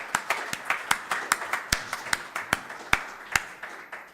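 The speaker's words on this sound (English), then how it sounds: "A big round of applause for everyone." A small round of applause at a game-of-the-year awards announcement, a dozen or so distinct hand claps in a fairly even rhythm, close and moderately loud, with no talking.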